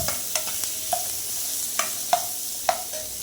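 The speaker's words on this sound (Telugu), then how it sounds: "మొత్తం అంతటిని కూడా కలుపుకొని రెడ్ కలర్ వచ్చినంత వరకు కూడా మీడియం ఫ్లేమ్లో మొత్తాన్ని కూడా బాగా వేపుకోవాలండి" Onions, curry leaves and green chillies frying in a pan over a medium flame for an egg fry, with a steady soft sizzle broken by a few sharp clicks of stirring and scraping, close and fairly quiet.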